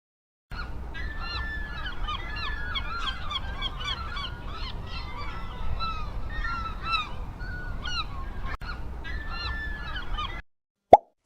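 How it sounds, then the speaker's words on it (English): Seagulls calling in a busy flock, a dense, continuous chorus of overlapping cries and squawks at steady loudness for about ten seconds, followed by a brief click. "Seagull."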